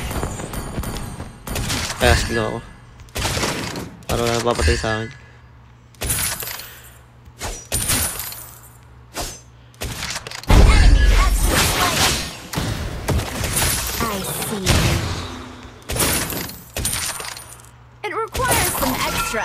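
Rapid bursts of gunfire from Beatrix in a mobile battle game, with several staccato volleys and metallic clinks across the stretch, while someone talks over the shots.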